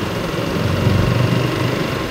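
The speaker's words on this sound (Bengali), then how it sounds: "গ্রাম বাংলার ঐতিহ্যবাহী মোটরসাইকেল ডিসকভার 125" A Bajaj Discover 125 motorcycle engine running near a rural Bangladeshi road, a steady low throbbing drone that swells slightly midway, close and fairly loud with no speech.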